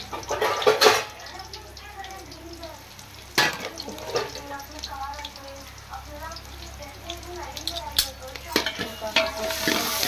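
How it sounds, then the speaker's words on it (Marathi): Manchurian masala with ginger-garlic paste is sautéed in a pan. A spoon scrapes and stirs in bursts over a continuous sizzle, and people talk nearby. "ते सर्व एकजीव करून पूर्ण लाल होईपर्यंत परतायचं आहे."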